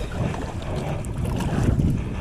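Wind blowing over a small fishing boat on the flats near mangroves, a constant close rumble and roar of buffeting gusts with no voices.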